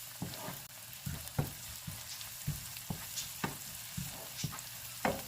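Ginger fries in a pan with a steady close sizzle, punctuated by repeated sharp clicks and scrapes of stirring, with no voice over it.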